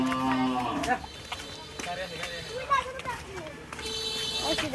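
Cattle being led along for Qurbani, with lowing mixed into a busy outdoor scene of shouting people and handlers, the animal sounds partly masked by near continuous talk.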